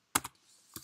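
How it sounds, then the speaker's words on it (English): A few quick computer keyboard keystrokes as a wget command is typed on a Raspberry Pi setup, two close clicks followed after a pause by a third, crisp and near with nothing else around. "To download the code, you type in the command"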